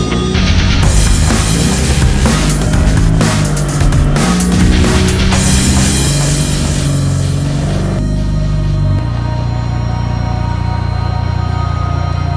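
A Mitsubishi Eclipse fitted with full Evolution 9 internals, its engine running loud and close, revving with rough bursts before settling into a steady idle drone, with no voices.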